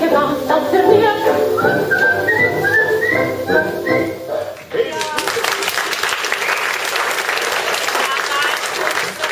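Someone whistles a lively, wavering tune up close on a stage, then a burst of audience applause takes over for the rest, with voices mixed in.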